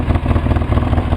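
A Polaris 700 engine runs loud and close with a rough, pulsing idle, exhaust chuffing out through an open plug hole in a steady throbbing rhythm.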